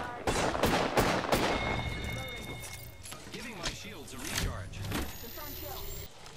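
Gunfire in the video game Apex Legends, with loud sharp shots clustered early and a few more later, mixed with game effects. Speech is tagged, but no words are spoken.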